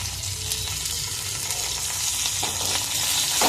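Tempering spices sizzle in oil for a bottle gourd chutney, giving a continuous close crackling fry with scattered small pops and light stirring, and no voices.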